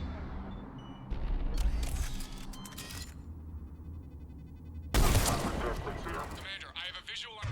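Cannon fire in Mass Effect 3 booms in two clusters of sharp, heavy blasts, one early and one later, with quieter rumbling between them and a voice faintly in the mix.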